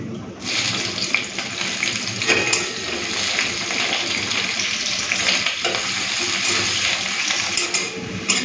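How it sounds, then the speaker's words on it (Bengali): Chopped onion with nigella seeds hits hot oil in a pan and sizzles steadily and continuously at moderate level, with occasional stirring scrapes over the frying. "তেলটা তো গরম হয়ে গেছে, কালো জিরে ফোড়ন দিয়ে দিচ্ছি। দিয়ে দিচ্ছি পেঁয়াজ কুচি।"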